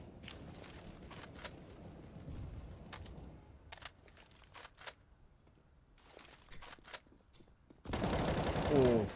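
Gunfire in a Counter-Strike match, with sharp pistol shots and clicks spaced out at a low level, then a loud dense burst of fire and noise near the end.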